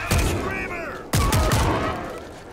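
Gunfire in the zombie shooter World War Z, with loud, close bursts of rapid shots that briefly cut out and then resume in a heavy, cracking volley while a player shouts over the noise.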